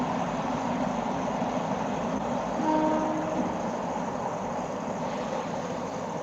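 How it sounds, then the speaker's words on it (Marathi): Continuous rumble of a train rolling past farm fields, with a brief faint horn tone partway through; no talking. "आता रेल्वे जाते तुम्हाला दिसते आमच्या शेतातूनच जाते रेल्वे"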